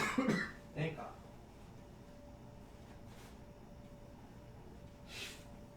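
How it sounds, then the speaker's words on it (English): A short, sharp nose blow sounds close at the start, followed by a second smaller snort and a faint later sniff, all against a quiet room hum. "I have to blow my nose again."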